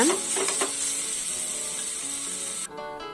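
Thoothuvalai leaves sauté in a pan for rasam, giving a steady close hiss with a few clinks of a spoon against the pan. The sizzle cuts out sharply near the end.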